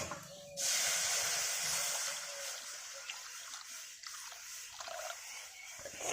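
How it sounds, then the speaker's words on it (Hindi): Milk poured into a pan where custard apple was fried in ghee, a loud steady hiss and sizzle bursting in abruptly and carrying on throughout with no talking. "और अब मैं इसमें डालूंगी दूध।"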